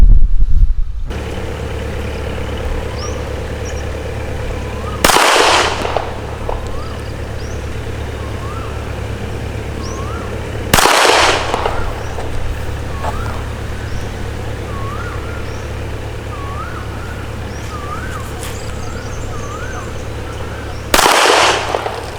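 A 9mm Smith & Wesson M&P M2.0 Compact pistol fires three loud, sharp shots spaced about six seconds apart at a shooting range, with steady background hum between them.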